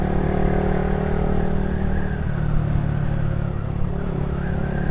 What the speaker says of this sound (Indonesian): Oh itu depan macet guys.